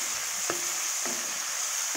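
Vegetables seasoned with salt and turmeric frying in a pan over a gas flame, a steady soft sizzle with three spaced scraping stirs of a spatula, close and fairly quiet.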